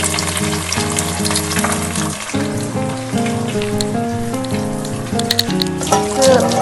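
Eggs cracked into hot oil for egg fried rice sizzle with a continuous bright hiss, largely buried under loud melodic background music throughout.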